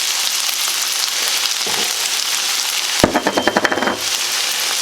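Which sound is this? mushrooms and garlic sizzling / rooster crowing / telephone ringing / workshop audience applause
mushrooms and garlic sizzling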